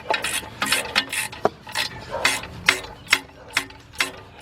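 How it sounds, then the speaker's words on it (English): A 3/8 drive ratchet turns a starter bolt threaded into aluminum on a BMW 745i, giving a series of close, crisp clicking bursts in an uneven rhythm of about a dozen strokes. "So now I'm going to hook up my 3/8 drive ratchet."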